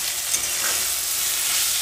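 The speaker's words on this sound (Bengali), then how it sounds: "চালতাগুলো তেলের মধ্যে দিয়ে ভেজে নেব" Chalta (elephant apple) pieces fry in oil in a wok with salt and turmeric, giving a steady, dense sizzle with faint stirring, close and continuous without any voices.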